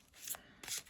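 Two quick bursts of playing cards being shuffled, close and crisp, with a brief pause between them.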